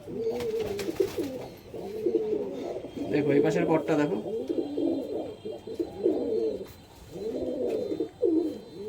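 Male pigeons at a Nabadwip pigeon sale coo in repeated low rolling bursts throughout, close and fairly loud, with a voice speaking briefly over them.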